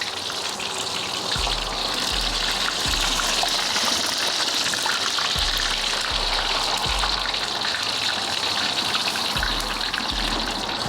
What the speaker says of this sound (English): just press it down and let it pop deep inside the oil